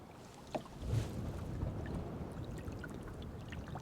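A wildlife photography kayak pushing through choppy river water into a headwind: a steady low wash and splashing churn with occasional slaps against the hull, continuous and close, no talking.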